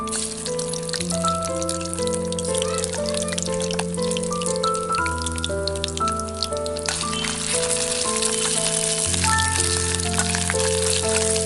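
Curry leaves and ginger paste crackle and sizzle in hot oil, a steady, close spatter running under loud sustained background music.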